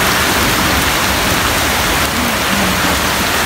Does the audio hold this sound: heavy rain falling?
yes